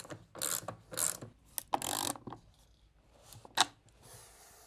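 Table legs being tightened onto an L bracket, a series of short ratcheting clicks and metallic mechanical bursts in uneven spurts, close and fairly quiet, with no talk.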